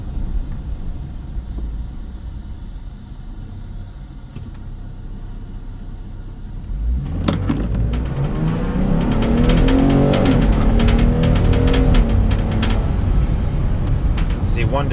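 A 2021 Ford Transit-250 cargo van pulls away and accelerates, its engine note rising loudly with audible gear changes partway through, after a quieter idle at the start.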